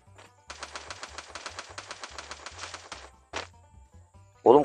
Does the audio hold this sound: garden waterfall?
no